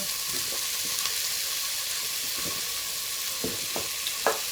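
Green paprika and other vegetables fry in oil inside a rice cooker, a steady close sizzle broken by scraping stir strokes and small clinks, with no talking.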